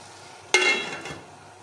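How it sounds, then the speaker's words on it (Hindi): A spoon stirs soft tomatoes in a cooking pan, starting with one sudden scraping, sizzling stroke that fades gradually, followed by a second, fainter stir; no voices. "अब हम इसको दोबारा से मिक्स करके कवर कर देंगे"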